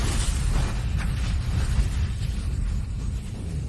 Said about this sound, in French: Papa, ça a explosé.